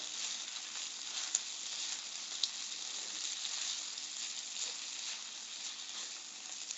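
Pre-cooked packet rice, chilled after opening, frying in a pan for crawfish jambalaya fried rice, giving a steady, close, bright sizzle with a few small pops, heard alone without talk.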